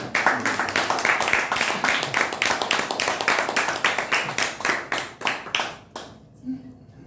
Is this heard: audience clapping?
yes